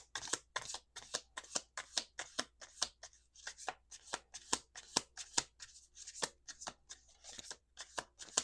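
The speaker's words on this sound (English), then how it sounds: "2 more shuffles." A deck of affirmation cards being shuffled by hand, with repeated crisp riffling bursts in a steady rhythm, close and fairly quiet, with a short pause partway through and no talking.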